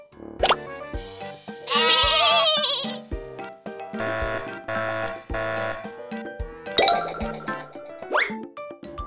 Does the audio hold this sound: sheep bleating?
yes